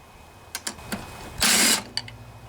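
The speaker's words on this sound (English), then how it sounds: "Looks like our 5/16 socket will do it again here." A 5/16 socket on a ratchet clicks as it loosens valve cover bolts on a Briggs & Stratton 163cc lawnmower engine: a few short close ticks, then one dense burst of rapid ratcheting.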